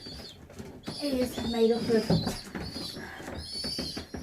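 Young racing pigeons coo and rustle inside a loft during basket training, soft throaty calls heard close under someone talking.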